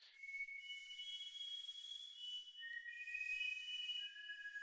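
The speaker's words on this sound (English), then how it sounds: "That's a little kid whistling on there" A little kid whistling in a music sample: thin, steady sustained whistle tones shifting between a few pitches, faint and alone over a soft hiss.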